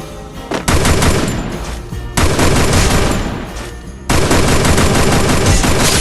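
Loud automatic gunfire from a Groza rifle in the mobile shooter Free Fire, three long sustained bursts of rapid shots separated by brief pauses, close and dominant.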